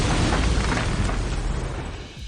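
Explosion in the film Sicario: a loud, sustained low rumbling blast with dense broadband roar that fades slightly toward the end, heard alone without voices.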